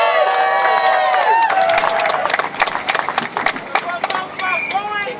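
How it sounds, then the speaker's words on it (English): A crowd at an outdoor May Day union rally, with ILWU Local 10 dockworkers among them, claps and cheers. Loud shouting voices come first, then scattered sharp handclaps and cheers that thin out toward the end. "Give yourselves a round of applause."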